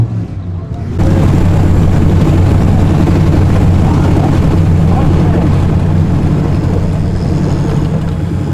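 A turbocharged AWD Honda Civic with a K24 engine on a drag strip pass, producing a loud, continuous, heavy engine roar that starts suddenly and holds steady.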